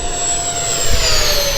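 An Airworld Me-262 model jet with twin 90mm electric ducted fans makes a full-power pass, producing a loud, steady high-pitched turbine whine over a broad roar whose pitch slides gradually downward as it flies past.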